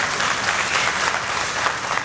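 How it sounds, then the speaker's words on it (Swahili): A crowd at a Yanga stadium project launch claps steadily in sustained, dense applause lasting a couple of seconds. "Tuwapigieni makofi mengi sana."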